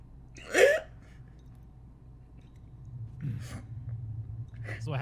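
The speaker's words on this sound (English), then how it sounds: "That's what happens when you hiccup and cough." One sharp hiccup breaks the near silence early on, followed later by softer breaths and a faint cough-like sound, close and quiet, with no speech.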